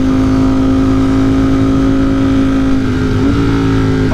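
A tuned motorcycle pulling hard in fourth gear, its engine droning loud and close with a steady high-pitched tone that holds and slightly shifts near the end, filling the whole stretch without talk.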